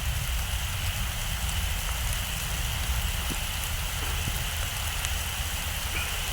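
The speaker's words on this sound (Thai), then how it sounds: "ฝนก็ตก" Steady rain falls through the night on a fishing trip, a dense continuous hiss of drops with a low rumble underneath, unbroken and fairly loud throughout.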